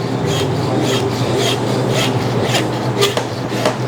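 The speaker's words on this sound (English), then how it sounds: "I'm just gonna cut until I get through that bone." Hand saw rasping through hog bone while breaking down a pig with hand tools only, loud repeated back-and-forth strokes in an even rhythm, close and alone.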